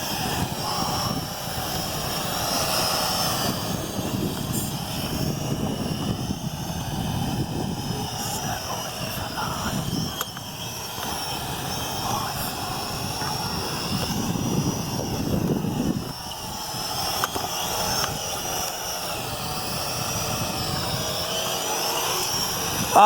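A Venom Pro GPS streaming drone flies over a park, its steady whining rotor buzz close and loud throughout, swelling slightly at moments, with wind-like rumble underneath and no voices.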